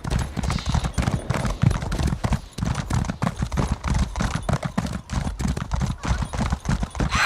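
Rhythmic clip-clop of a mount's hooves galloping steadily in the video game Elder Scrolls Online, loud and continuous with a fast even beat, a few sharp combat-like bangs mixed in.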